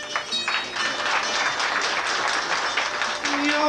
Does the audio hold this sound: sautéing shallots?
no